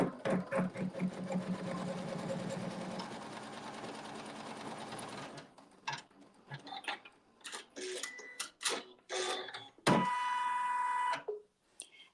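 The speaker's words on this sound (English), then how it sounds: "it's going to sew a tack down stitch" Embroidery machine sewing a tack down stitch, a fast steady mechanical chatter for about five seconds, then stopping, followed by scattered clicks, handling noises and a brief beep.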